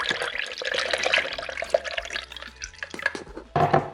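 Liquid trickles and drips through a sieve as a homemade eye-health drink is strained, a busy, irregular patter of small drops close by with a louder splash toward the end.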